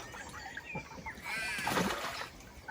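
A water snake splashes in a stream along a walking loop, a faint, continuous churning splash with a swell in the middle, heard from a little distance.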